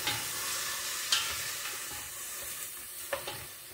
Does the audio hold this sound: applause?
no